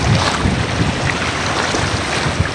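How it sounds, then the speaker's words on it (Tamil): Floodwater rushing hard through broken concrete, a steady loud roar of churning water with constant wind buffeting and no voices. "பாருங்கள் எவ்வளோ காங்கிரீட் உடஞ்சி தண்ணி போகுது"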